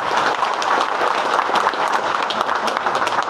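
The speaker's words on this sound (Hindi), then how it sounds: "ताली बजाइएगा।" Steady, dense applause from a large audience at a Bharatiya Janata Party political gathering in Bihar, continuous and fairly loud throughout with no break.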